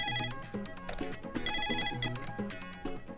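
A telephone rings with a repeated electronic melodic ringtone, loud and close, cycling through the same short pattern several times.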